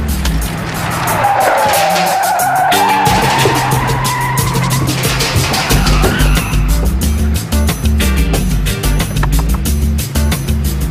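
A car makes a sharp U-turn in a city street, its tires squealing and skidding loudly for several seconds over a revving engine, then the engine roars on as it drives off.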